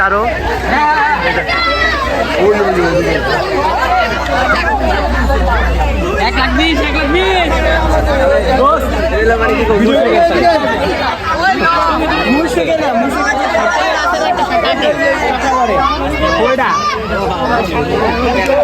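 Dense crowd hubbub at the Shahjahanpur cattle market, a steady loud wash of many overlapping voices and chatter throughout, close and continuous with no pauses.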